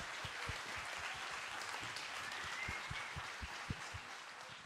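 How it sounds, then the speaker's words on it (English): Faint, steady applause from an audience at an anthropology conference welcome session in Lisbon, a soft wash of clapping heard from a distance without distinct individual claps. "Please, big applause."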